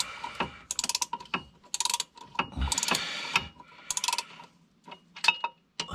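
Ratchet wrench tightening bolts on the lift arm stabilizer mounts of a tractor, heard as several bursts of rapid metallic clicking with short pauses between them, close and clear with no talk.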